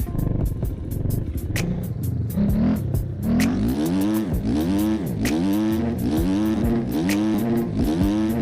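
Motocross dirt bike engine revving in repeated rising and falling throttle bursts as the rider carves through a berm, loud and close with a rhythmic, uneven wail and no talking.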